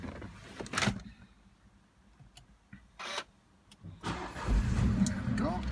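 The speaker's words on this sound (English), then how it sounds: "I'll just start the car up." A 2014 Mini Cooper Chili 3-door engine starting: brief cranking bursts, then the engine catching and settling into a steady idle up close, with faint door or window noises around it.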